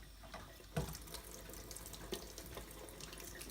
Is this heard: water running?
yes